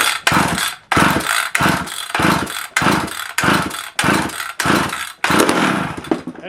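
Vintage McCulloch chainsaw, rebuilt with a 1010S top end and running race fuel, revving hard in repeated loud bursts with short dips between them, close by and with no talk.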